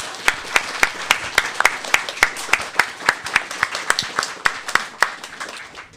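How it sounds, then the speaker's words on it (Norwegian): Audience clapping honors panel participants after a sociology and theology discussion, with sharp individual claps standing out in a loose, fairly regular rhythm rather than a dense roar, close and clear throughout. "gi en samlet applaus til alle som har vært deltakere i panelet"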